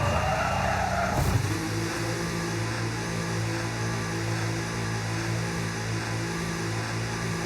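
A race car in a sim racing game brakes hard into the pit lane at Qatar, tires squealing briefly at first, then a steady engine drone holds at moderate level with no talk over it.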